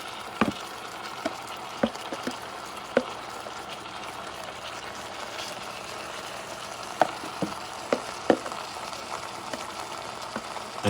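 Bison liver with onions and vinegar frying in a pan, a steady soft sizzle broken by scattered sharp pops and crackles, close and moderately quiet with no talking.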